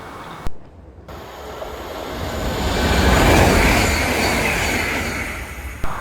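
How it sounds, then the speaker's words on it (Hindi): High-speed airport train in Sweden rushing through a station, a loud broadband roar that swells to a peak midway and then tapers off, with no voices over it. "वो ट्रेन देखी आपने?"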